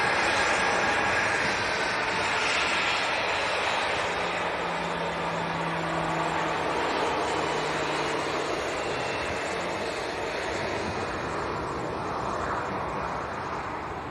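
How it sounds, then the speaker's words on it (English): Ryanair Boeing 737-800 jet at Leeds Bradford Airport, a broad, sustained roar of jet engines at moderate distance, steady then slowly fading slightly toward the end. "Ryanair to Paris, 737-800."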